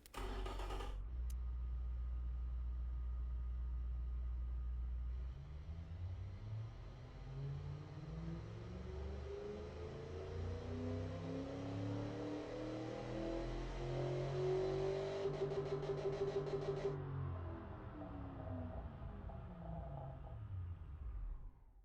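A simulated V12 engine from the Automation car-building game, fitted with reverse flow mufflers, runs up from a low idle into a long, rising rev sweep, peaks near redline, then drops back down, loud and alone.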